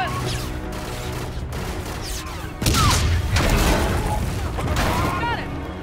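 Frag grenade blast and rapid gunfire in the sci-fi shooter Call of Duty: Infinite Warfare, a heavy boom at mid-clip followed by sustained loud firing and battle noise, with voices talking over the action.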